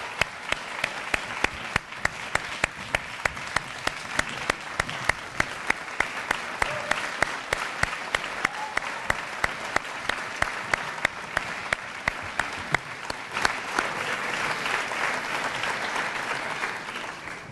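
Sustained applause from a large crowd of medical school graduates at a 2013 ceremony, dense steady clapping filling the hall for the full stretch, fairly loud and even throughout.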